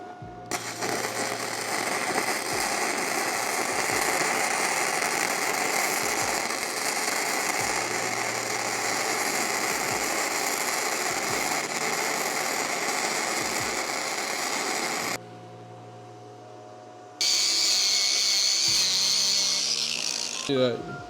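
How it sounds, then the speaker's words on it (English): A budget 4-in-1 welder lays a bead on a 3/8-inch steel test plate, a steady close crackling buzz sustained for about fifteen seconds before stopping, then resuming briefly. "We are just going to weld the bead and see how it looks."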